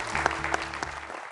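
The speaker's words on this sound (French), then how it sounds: "On peut applaudir Mathieu, qui a fait un très beau match aussi ce soir." A studio audience at a French TV quiz show applauds, a brief, dense burst of clapping with a few sharper claps standing out, fading slightly at the end.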